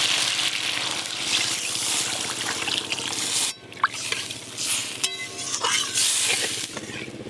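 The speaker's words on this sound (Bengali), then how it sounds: "এবার পরিমাণ মতো জল দিয়ে দেবো।" Water is poured into a pan of sizzling masala and taro for a hilsa fish curry, a loud rushing hiss and bubbling splash close by, with a short break and then renewed spluttering.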